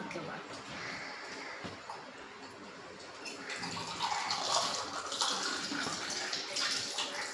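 Water being drawn or poured, a steady splashing, running rush that grows louder and brighter partway through, heard close by with a voice talking over it.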